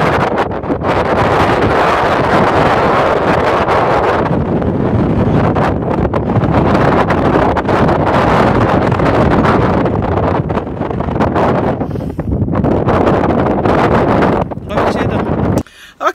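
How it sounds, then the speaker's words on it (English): Heavy wind gusts batter the microphone outside in a steady, loud broadband rumble lasting most of the stretch, cutting off sharply near the end. "See what this wind is doing."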